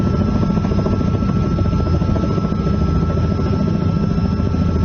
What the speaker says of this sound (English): I've got a loud helicopter noise in my ear.